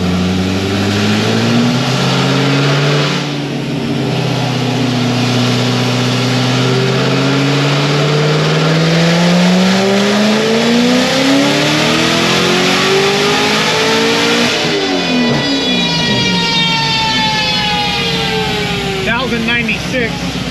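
A boosted Chevrolet Corvette C6 ZR1 engine revs loud and close during a run, its pitch climbing steadily before dropping off and settling back.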